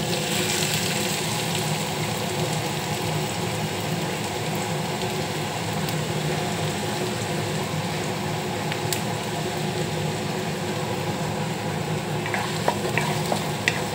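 Onion frying in oil with ajwain in a kadhai for kadhai paneer, an even, steady crackling sizzle running throughout with occasional light ticks near the end.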